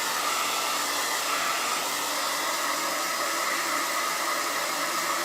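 Hair dryer blowing on a painted sign to dry it, a steady close whooshing hiss with an even, unbroken level throughout.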